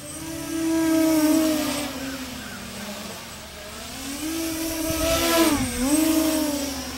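JJRC X1 quadcopter drone flown hard at high rates, a whining motor buzz that swells and dips with throttle punches, moderately close, with no voices.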